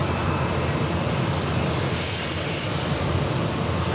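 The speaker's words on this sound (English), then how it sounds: "the Gulf Air Dreamliner for Bahrain about to spool up" A Gulf Air Boeing 787 Dreamliner taxiing at Manchester Airport spools up its jet engines in a loud, broad, sustained roar that stays steady and close for the whole stretch.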